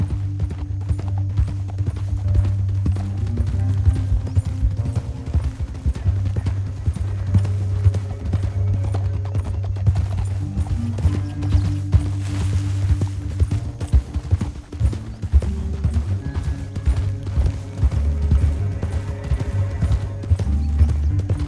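Rhythmic clip-clop of galloping horse hooves in a video game, Red Dead Redemption 2, over a low rumbling bed, continuous throughout with a brief horse whinny partway through.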